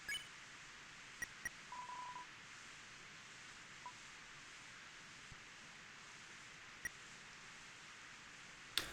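A phone dial tone and a few short beeps from the Deltarune video game play quietly over faint hiss, with scattered clicks and a louder click at the end.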